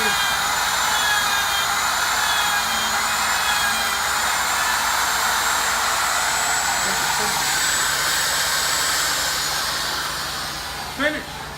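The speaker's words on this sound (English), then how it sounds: "We're gonna start the router." Wood router spinning steadily beside a rotating table while cutting a round speed bag platform, a loud continuous whine with hiss that holds for most of the stretch, then tapers off near the end as the motor winds down.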